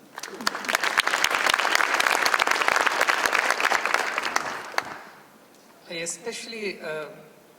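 A crowd at a center launch event claps loudly and steadily for about five seconds, then the applause fades and a speaker's voice comes in alone.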